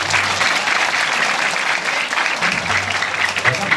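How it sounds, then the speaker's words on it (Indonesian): Applause from an audience at an Islamic boarding school sermon, a sustained burst of many hands clapping that stays steady throughout and swells slightly again near the end. "Tepuk tangan boleh?"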